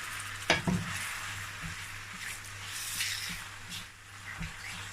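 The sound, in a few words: pouring boiled tomato into sizzling pot of meat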